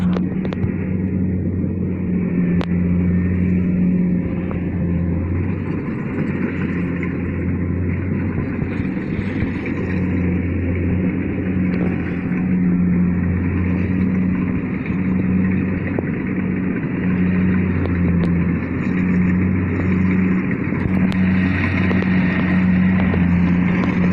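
A PC 70 rice harvesting machine engine runs steadily, a loud continuous low drone with a constant hum throughout, no talk.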